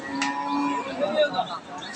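A Sahiwal bull at a busy rural cattle market gives a long, loud, close moo with a wavering tone, while market noise and other voices murmur behind it.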